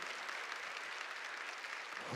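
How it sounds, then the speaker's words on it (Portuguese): A church audience at a Catholic gathering applauding a priest, a brief, steady patter of many hands clapping, fairly soft and even, with no voices. "Vamos aplaudir o profeta Monsenhor Jonas Abib"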